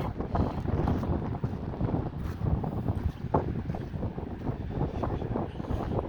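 Strong, cold mountain wind on the trek toward Gomukh buffets the microphone in loud, continuous rumbling gusts with no one speaking.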